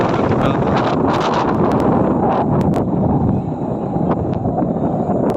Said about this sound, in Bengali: বংশীর মতন বাতাস দিচ্ছে।